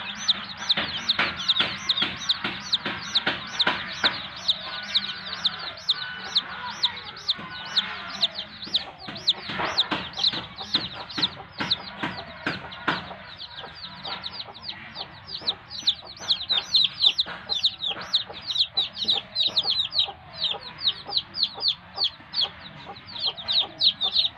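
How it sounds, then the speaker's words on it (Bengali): Native chicks keep up a dense, steady chorus of high, rapid cheeping and peeping close by for the whole stretch, with no talk over it. "দেশি মুরগির বাচ্চা।"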